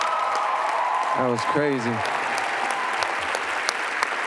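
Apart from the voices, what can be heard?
audience applause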